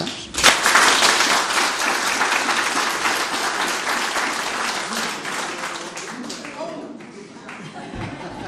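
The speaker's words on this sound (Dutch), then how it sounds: "Applaus." Audience at a Leiden volunteer awards ceremony bursts into loud, sustained applause that gradually thins and fades, with a few voices and scattered claps near the end.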